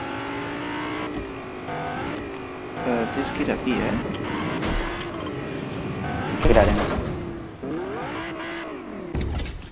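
Car engine from the video game Fortnite, a steady motor drone with rising and falling revs as the vehicle drives along a road, under two people talking over it.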